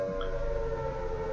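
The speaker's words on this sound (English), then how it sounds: "That's the Silent Hill siren" A low, droning siren wails steadily throughout a short stretch of the video game Midnight Tales Vol. 2, loud and continuous with no voices over it.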